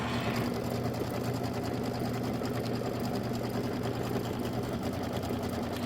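An embroidery sewing machine runs a tack-down stitch for quilt batting on a Kimberbell mini quilt, a continuous fast mechanical whirring hum with steady needle rhythm, close and even throughout, with no voices.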